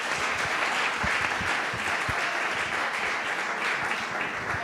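A conference audience on vocational excellence gives a steady round of applause, a continuous dense patter of hands at moderate distance, holding evenly for several seconds with a faint murmur underneath.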